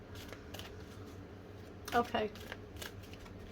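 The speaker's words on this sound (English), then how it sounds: "Do a few more shuffles and then let's get on." Tarot cards being shuffled by hand, a soft papery riffle that builds to a brief louder burst near the middle, with a person talking over it.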